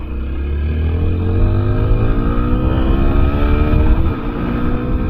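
A new motorcycle's engine drones steadily and close, its pitch sliding gently up and down as the bike rides along.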